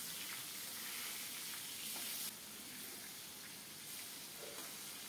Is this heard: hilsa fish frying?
yes